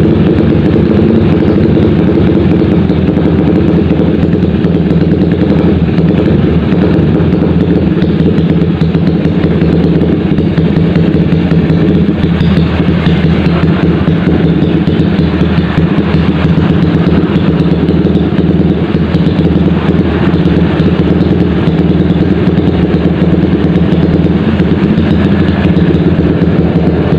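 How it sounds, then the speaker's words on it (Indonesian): Honda GL motorcycle engine idling roughly and unevenly after sitting unused for five days, with a steady close, loud low rumble and no talking. "itu nyala bro, tapi suara mesinnya gak enak"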